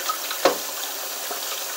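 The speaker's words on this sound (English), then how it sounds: "I'm going to start by tackling my sink here. Get the water hot." Hot water runs steadily from a kitchen tap into a sink, a soft continuous hiss with a brief louder splash near the start, heard alone at close range.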